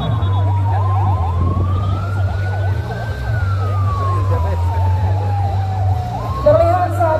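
Wailing siren from police escort vehicles leading an election logistics convoy through Batam, its pitch rising and falling in slow sweeps over a steady low engine drone, loud and close throughout.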